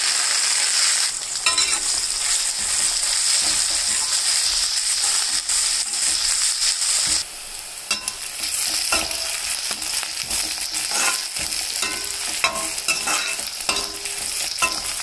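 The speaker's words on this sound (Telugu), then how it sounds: "ఎర్రగడ్డ బాగా వేగిందండి" Onion and curry leaves frying in a pan with spices, a steady close sizzle and crackle throughout, with stirring scrapes and a brief dip in intensity midway.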